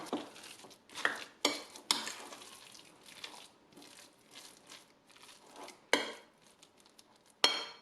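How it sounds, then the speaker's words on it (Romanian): Eggplant and mozzarella meatball mixture being stirred in a bowl, soft squelching and scraping with several sharper utensil knocks against the bowl at irregular intervals, close and alone. "Continuăm să amestecăm."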